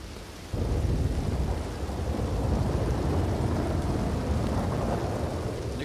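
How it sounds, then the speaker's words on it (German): Steady heavy rain and rolling thunder in Red Dead Redemption 2, a continuous loud wash of rain that swells abruptly after a quiet start and rumbles on without pause. "Nicht schlimm. Es regnet etwas."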